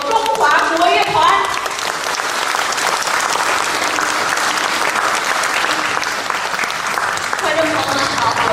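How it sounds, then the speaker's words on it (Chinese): An audience at the opening of an overseas Yue opera festival applauds the conductor and a Chinese traditional orchestra, with loud, dense, sustained clapping throughout and a few voices briefly audible at the start and end. "让我们首先把掌声送给指挥张一成老师和美国中华国乐团"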